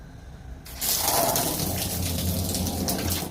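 Water gushes steadily from a water filter pipe after trapped air is purged, a loud continuous rushing flow that starts abruptly and keeps going alone.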